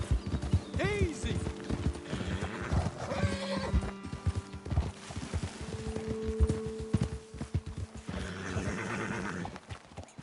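Horses in the video game Red Dead Redemption II clip-clop along on hooves, one whinnying loudly with a rising-falling neigh, other hoof falls and snorts following close by while a voice talks over parts of it.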